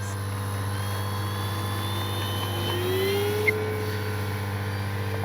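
An FMS P-47 RC warbird plane takes off with flaps set, a steady motor drone with a rising tone sweeping up as it climbs away, fairly faint and distant.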